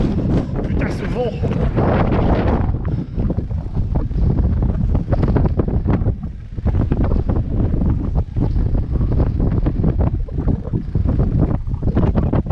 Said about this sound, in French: Putain, ce vent.